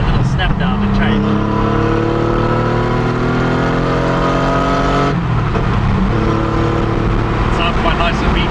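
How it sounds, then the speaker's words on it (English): Porsche 911 3.2 with a Bisimoto exhaust revs hard up through a gear, engine pitch climbing loudly, then dropping with a shift and pulling again, heard close from inside with the roof off. "It's an impressive sounding exhaust pipe."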